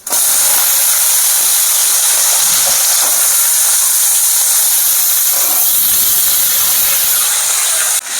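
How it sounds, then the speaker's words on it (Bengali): Small-cut potatoes hit a hot tempering of cumin and dried red chilli for vegetarian green pea ghugni, setting off a loud, continuous sizzle that hisses on for several seconds before easing slightly at the end. "এবার আমি ফোড়নের উপরে আলুগুলো দিয়ে দেবো"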